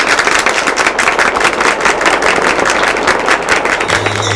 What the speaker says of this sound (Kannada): ಹೊಡೀರಿ ಎಲ್ಲ ಚಪ್ಪಾಳೆ